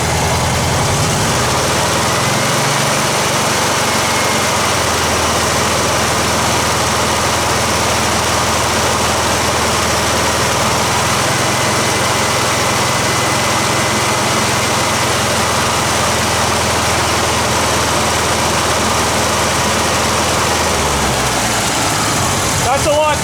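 A Kubelwagen engine idles steadily after a tune-up with clean spark plugs and a new coil, the throttle held constant for a continuous, even drone that runs loud and close for about twenty seconds before cutting off near the end.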